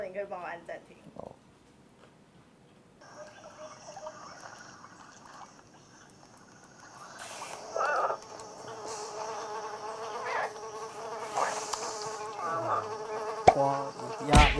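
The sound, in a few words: buzzing fly, played on Samsung Galaxy Tab S4 speakers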